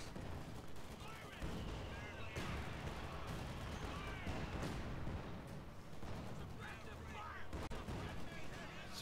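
Dense, continuous battlefield gunfire from Company of Heroes 2, with rapid volleys and overlapping shots mixed with distant booms, sustained and loud throughout with occasional voices underneath.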